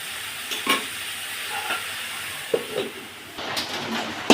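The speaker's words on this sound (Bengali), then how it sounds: "সুন্দর করে নেড়ে চেড়ে হলুদ গুঁড়ো লবণ দিয়ে সব যেন মিশে একাকার হয়ে যায়।" A small fish curry seasoned with turmeric and salt being stirred in a pan, soft sizzling and frying hiss with a few scraping strokes of a spoon against the pot, close and steady.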